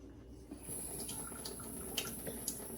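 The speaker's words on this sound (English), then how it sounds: "I'm just running the water through the top here." Tap water runs through sheep intestines at a sink, a faint steady trickle with a few soft drips, heard alone and quietly.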